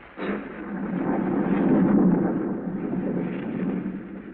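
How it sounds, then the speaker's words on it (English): A thunderstorm rages over open countryside at night, a sustained deep rumbling roar that swells through the middle and eases slightly, loud and continuous with no voices over it. "A storm rages wildly over the countryside."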